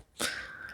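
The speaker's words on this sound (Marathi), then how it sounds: "कावळा जर आपल्या घराभोवती फिरत असेल काव काव काव वरडत" A single crow gives one drawn-out caw, fairly close and clear against a quiet background, with a brief thump at the end.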